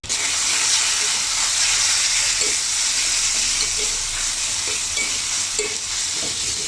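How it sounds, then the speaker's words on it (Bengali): Spices sizzle in hot oil with softened onions, a steady loud hiss with a few soft stirring knocks, close up and without any voices. "আমার মশলা ভাজা ভাজা হয়ে গেছে।"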